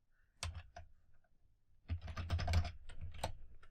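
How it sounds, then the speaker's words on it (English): Computer keyboard typing while entering a spreadsheet formula: a few isolated keystrokes, then a denser burst of quick clicking taps, close and moderately loud with no talk. "I'm going to press equals and then type in substitute."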